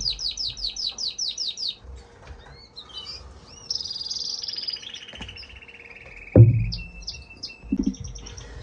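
A female German crested canary in an unheated breeding room sings bright chirps and trills, with a quick repeated run at the start and a sustained warble later, plus a few nearby bumps and thuds.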